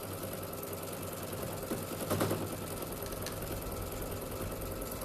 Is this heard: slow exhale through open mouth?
no